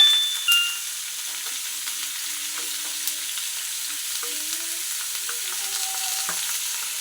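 Onions frying in oil in a home kitchen pan, a steady soft sizzle running throughout with occasional faint stirring clicks and light utensil taps.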